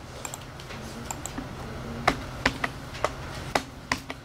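A failing computer keyboard is typed on in sparse, irregular keystrokes. The clicks start faint and get louder and sharper in a later burst, over a low room hum.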